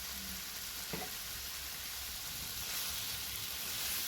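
Red lentils frying and being stirred in a pan for a Bengali banana-flower curry, a soft continuous sizzle with a faint scrape of the spoon, quiet and steady with no talking.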